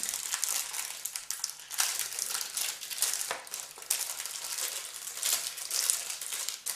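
Continuous crinkling and crackling of a thin plastic bag being handled and torn open up close, with sharper rips breaking through now and then.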